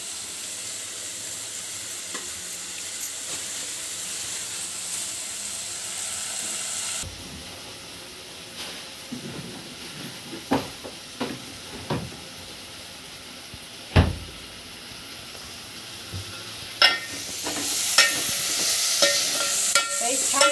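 Vegetables sautéing in a pan for Maharashtrian masala rice: a steady hiss of frying gives way to irregular clanks and scrapes of stirring, and a bright sizzle swells near the end.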